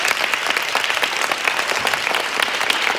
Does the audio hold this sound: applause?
yes